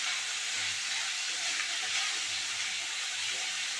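Spice paste sizzles and fries steadily in a pan for a mocha ghonto (banana flower curry), a dense continuous hiss without a break, fairly loud and close, with no talking.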